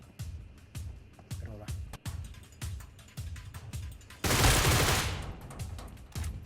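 Sniper gunfire in a shooting video game: sharp cracks repeat about every half second, then one louder roaring burst of noise swells briefly before the shots resume more faintly.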